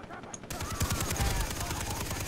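Rapid automatic gunfire from the video game Far Cry 3, a dense burst of loud, overlapping shots that starts abruptly and keeps rattling steadily to the end.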